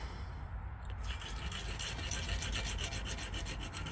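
Steady rhythmic rasping as a tool deburrs the sharp lower edges of cylinder bores in a big-block engine, a close, fairly quiet scraping that starts after a brief lull and continues in repeated strokes.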